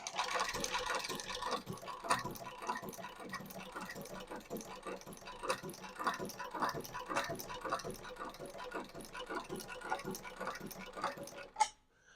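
A long-arm shoe repair sewing machine with a large bobbin runs in a steady, rapid ticking and clattering rhythm for several seconds. The sound stays close and moderately loud, then stops abruptly with a final clunk.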